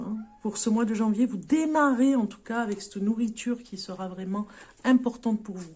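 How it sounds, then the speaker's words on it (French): A house cat meows repeatedly, wanting to be let outside, its cries sounding under and between someone speaking French indoors. "Désolé pour le chat qui miaule, il veut sortir."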